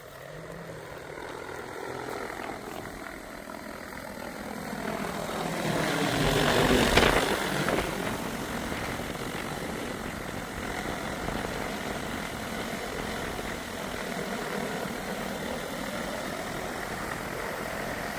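Agricultural drone flying over a rapeseed field while spreading rodenticide, its steady rotor buzz swelling as it passes close, then holding a constant hum at moderate distance.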